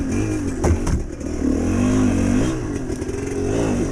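A GPX TSE 250R dirt motorcycle engine revs continuously while being ridden on a tight wooded trail, its loud, close exhaust note rising and falling with throttle changes, with occasional clattering from the bike.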